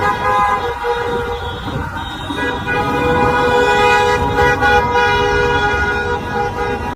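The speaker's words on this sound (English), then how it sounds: "Look, they out there honking it." Many car horns honking at once on a street, sustained overlapping blares with traffic noise underneath, loud and continuous.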